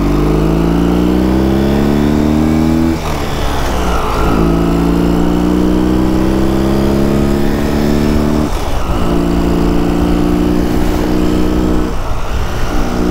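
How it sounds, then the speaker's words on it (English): An old motorcycle accelerates hard from a standstill toward 60, its loud close engine climbing steadily in pitch, dropping briefly at two gear shifts, then rising again, with no talking over it. "Let's see if we can even get to 60."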